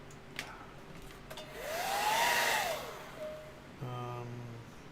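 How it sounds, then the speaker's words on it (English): A hair dryer speeds drying on a handmade ghoul prop, whirring steadily with a rising and falling pitch, fairly close, with a couple of clicks and a brief hum near the end. "hair dryer, please. Speed this up."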